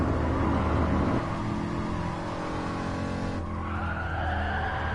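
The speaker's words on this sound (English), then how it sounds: "I'm using a 1969 car compared to all the newer cars that I'm racing up against." A 1969 car racing against newer cars in a racing video game, with a loud continuous engine roar and long tire-skidding squeal that shifts pitch midway, alone without talk.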